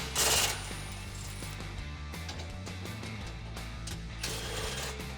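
A ratchet with a 16mm socket removes bolts from a 2018 Jeep Wrangler JL skid plate, giving rapid, close clicking bursts with a loud metallic rattle at the start and another near the end.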